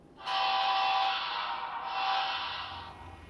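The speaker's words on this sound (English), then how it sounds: "just to show you the pushing and pulling power of these locomotives against each other" Model GE Evolution hybrid locomotives push against each other, giving a steady high electric motor whine that rises abruptly, holds for about three seconds, then eases off, close and fairly loud.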